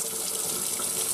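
Cold water pours from a Quooker Fusion kitchen tap into the sink, a steady close splashing stream at even level throughout.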